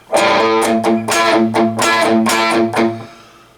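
Chugging palm-muted chords on a heavily distorted electric guitar, several short rhythmic hits played up close, ending in a fading ring.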